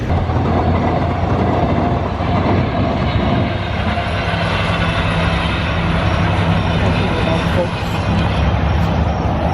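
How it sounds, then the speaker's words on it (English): A train on Long Island rumbles past in a steady, loud roar with a rhythmic clatter on the rails that fills the whole stretch, close and continuous. "that's the train we would have been on right now."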